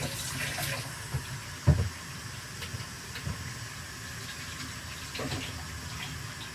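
Tap water runs at a faint, steady flow while hands are washed after handling egg, with a few soft knocks and splashes and no talking.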